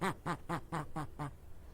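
A distressed duck quacks desperately in six evenly spaced, loud calls in quick succession, with nothing else heard.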